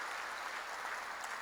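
A church congregation at a Korean worship service claps together, a dense, steady wash of applause that stays even throughout, with no voices standing out.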